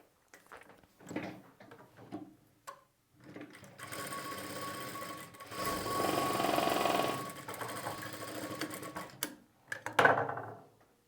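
A tailoring sewing machine stitching fabric, running in short bursts and then a long steady whir of rapid needle strokes with a few clicks and pauses between, close up and fairly quiet, with no talking.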